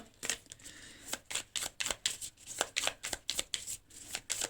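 Playing cards shuffled and gathered back up in a run of quick, crisp riffling bursts, close and fairly loud, with no talk.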